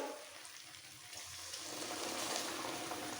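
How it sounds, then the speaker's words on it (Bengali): A little hot water poured into a simmering potato curry, a soft, faint stream of liquid with a light sizzle that grows slightly toward the end. "এর মধ্যে দিয়ে দেবো অল্প করে গরম জল"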